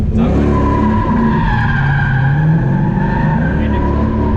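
A car drifting after a clutch kick lets out a long, loud tire squeal over a roaring engine, sustained and close for the whole stretch.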